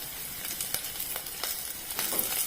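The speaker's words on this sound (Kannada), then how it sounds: "ಹಾಕಿ ಒಮ್ಮೆ ಚೆನ್ನಾಗಿ ಫ್ರೈ ಮಾಡುವ" Onions and curry leaves frying in hot oil in a pan, giving a steady close crackling sizzle with small pops and occasional stirring scrapes throughout.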